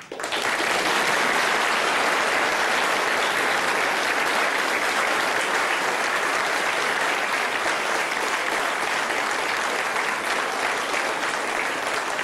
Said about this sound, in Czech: takhle moc se tleská přeci na závěr, ne?